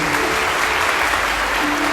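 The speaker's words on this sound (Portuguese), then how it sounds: "Vamos aplaudir a palavra do Senhor." A church congregation at Mass applauds the reading of the Gospel, a steady, dense burst of clapping filling the space at a close, even level.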